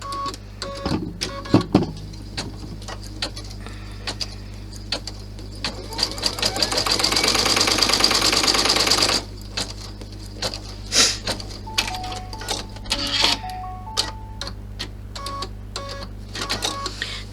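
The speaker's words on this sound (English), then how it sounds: "I'm holding it in place as I sew." A sewing machine stitches a large clutch bag in close, loud bursts of rapid mechanical whirring, with one long sustained run in the middle and short stop-start spurts around it.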